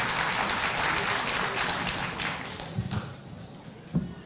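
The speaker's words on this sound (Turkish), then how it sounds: "alkışlarla uğurluyoruz" Audience applause at a stage ceremony, a broad crowd clapping that fades toward the end, with a few isolated claps and taps near the close.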